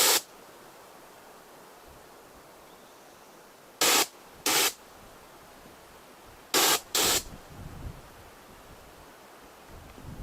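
Five short, sharp hissing bursts from a previously fired, expired can of bear spray: one at the start, then two quick pairs, separated by quiet outdoor background.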